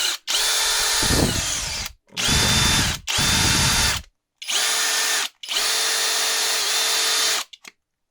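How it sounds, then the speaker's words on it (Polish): An Erbauer cordless drill-driver powered by a regenerated battery whirs at high speed in five separate bursts, with short silences between runs and some rattling at the start of the early bursts, close and loud. "Podłączę sobie teraz wkrętarkę. Zobaczę, czy w ogóle ona odpali."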